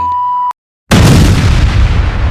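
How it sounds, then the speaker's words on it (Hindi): A car bomb explodes near gate 1 of the Red Fort metro station in Delhi. A steady tone is followed by a brief silence, then a sudden, very loud roaring blast that rumbles on without any voices. "एक बहुत बड़ा धमाका होता है।"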